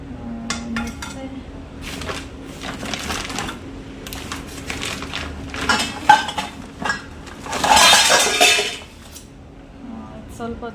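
Non-stick pots and pans clatter and clink as they are handled in a home kitchen, a run of metallic knocks and scrapes with a louder rattling burst near the end, heard close with faint background.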